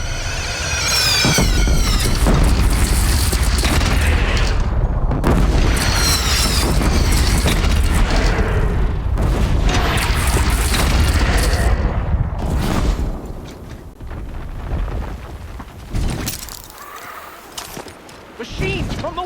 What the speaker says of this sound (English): Take up a cannon!